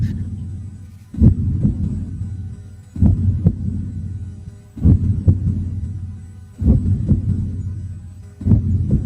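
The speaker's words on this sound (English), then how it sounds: "I like the heartbeat in it." Slowed heartbeat sound effect, played at 70% speed: five deep, loud thumps evenly spaced about two seconds apart, each trailing into a low throbbing hum, with no voices.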